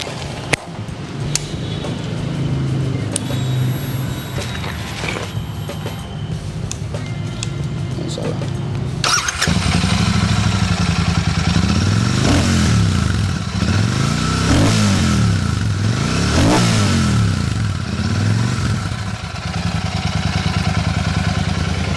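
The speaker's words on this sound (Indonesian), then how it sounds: "kalau ngomongin suara mesinnya gimana sih?" A Royal Enfield Super Meteor 650 parallel-twin motorcycle engine idles with a clattery rumble. It then gets louder and is revved in several rising and falling sweeps, close to the bike.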